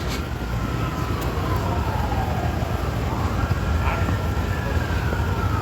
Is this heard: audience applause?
no